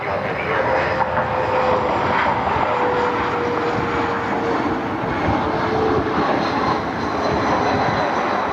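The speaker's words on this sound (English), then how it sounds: "Here's the Slate CRJ." A CRJ regional jet airliner at Cleveland Hopkins airport gives off a steady, loud engine roar with a faint whining tone, sustained without a break for the whole stretch.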